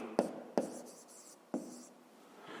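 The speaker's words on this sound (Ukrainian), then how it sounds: "Пишемо друге і записуємо" Pen strokes on paper while working a fifth-grade math exercise: three distinct taps and scratches of writing close to the mic, spaced unevenly in a quiet room with no talking.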